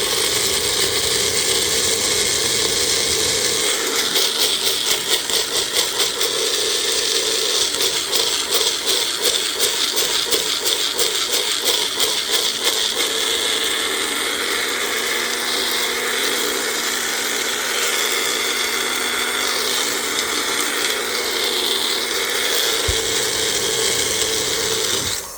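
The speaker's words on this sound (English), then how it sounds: "We're going to grind that up." An electric grinder whirs continuously, breaking dried black cherry yogurt down into powder, a loud steady buzzing drone with a rattling, grating texture, alone throughout.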